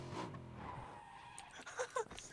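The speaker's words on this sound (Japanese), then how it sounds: "車の音する ね" A car engine and skidding tires sound in the video game PUBG, faint and distant under quiet game noise, with a few sharper bursts near the end.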